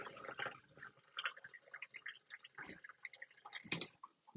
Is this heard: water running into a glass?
yes